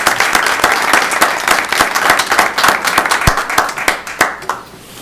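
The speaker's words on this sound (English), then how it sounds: "They don't all clap that often." Audience applause at a town council meeting: a steady wash of many hands clapping, dense and sustained, then thinning and tapering off toward the end.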